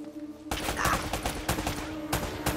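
Gunfire in the video game Uncharted: Drake's Fortune, a dense volley of rapid shots that starts suddenly and keeps going, loud and close, with sharper individual cracks standing out.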